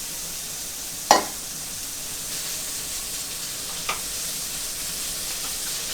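Spam meat frying in a pan for Japanese omurice, a soft steady sizzle with a sharp clatter near the start and a fainter knock later.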